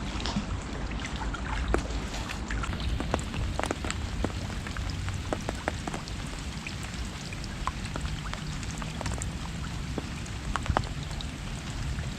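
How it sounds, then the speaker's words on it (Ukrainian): Steady rain patters on a fishing boat on the Dnipro river during autumn bream fishing, a continuous close hiss with scattered individual drop taps throughout, no talking. "І опять він пішов дощ. Пішов дощик."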